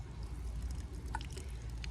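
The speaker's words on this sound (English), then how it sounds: "Let's go ahead and water this one in as well." A newly planted echinacea in a Maryland summer garden is watered in, giving a soft, steady pour and trickle onto the soil, quiet and close, with no voices.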